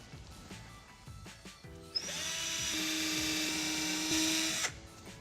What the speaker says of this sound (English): now I'm going to drill in the exact same holes again, just into the stud itself